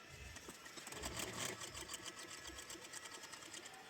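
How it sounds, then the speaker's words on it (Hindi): A sewing machine stitching a blouse belt, a fast, steady mechanical chatter of the needle running continuously, close and fairly quiet. "अब सिलाई लगाएंगे हम।"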